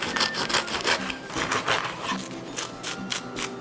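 Garlic butter spread over an ordinary baguette, a close, steady scraping and rubbing with rhythmic strokes, heard alone without talk.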